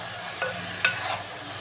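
Tomato stirred into a brinjal and potato curry, with two brief scraping clacks of a spoon against the pan over a low, steady cooking hiss.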